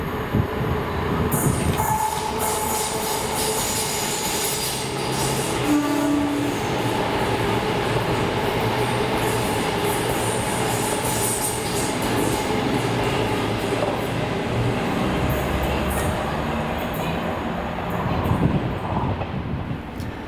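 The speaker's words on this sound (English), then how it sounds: "the third last ever southbound Voyager, being 2S96. 12:21 at Glasgow Central to Carlisle with 221, 117 and 104." A Class 221 Voyager formed of units 221117 and 221104, running from Glasgow Central to Carlisle, passes at Kilmarnock with a loud, sustained rumble and rail noise throughout, no voices.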